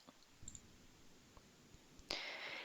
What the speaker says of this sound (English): So go ahead and click on that.